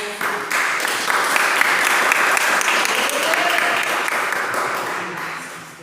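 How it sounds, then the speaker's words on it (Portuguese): A church congregation applauds during a healing and deliverance service, a dense sustained wash of clapping that holds steady for several seconds before tapering off, with voices mixed in underneath. "as palmas"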